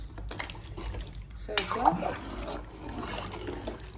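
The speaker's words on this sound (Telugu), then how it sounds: "బాగా సరిపా నీళ్ళు పోసుకోవాలి." Water is poured into a cooking pot over pieces of mutton head for soup, a close splashing pour starting midway, with brief talk in the background.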